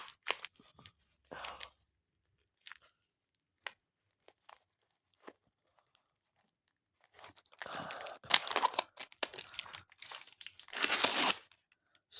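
A parcel sealed with brown tape being opened, scattered faint crinkles and rips at first, then a longer burst of loud tearing and crumpling of tape and packaging close by, with no talking.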